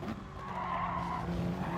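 Tyres squeal in a sustained, loud whine as a car brakes hard before red curbing in a GT racing video game, with engine roar running steadily underneath for the whole stretch.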